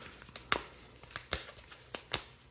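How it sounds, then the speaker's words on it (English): Tarot cards being shuffled by hand, a stiff deck that resists, giving a few sharp riffling bursts spaced about every half second over quiet room tone. "this is not as easy of a deck to shuffle"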